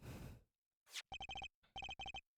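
A cell phone rings in the video game Apollo Justice: Ace Attorney. The electronic ringtone plays bursts of rapid chirping pulses in two clusters after a brief whoosh, clear and alone.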